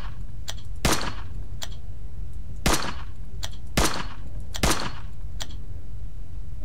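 Four sharp, loud gunshots crack out at uneven intervals in the game Heat Signature, with faint clicky ticks scattered between them over a low background hum; nobody speaks.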